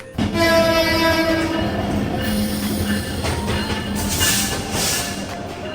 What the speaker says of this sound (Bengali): সকাল ছয়টা পাঁচচল্লিশে ট্রেনটি সোনাইমুড়ি রেল স্টেশনে আসে